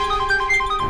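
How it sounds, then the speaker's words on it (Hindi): Mobile phone ringing during a CID television crime episode, a continuous electronic ringtone with a repeating warbling melody, loud and steady for the full second with no voices over it. "फोन अभी भी बज रहा है।"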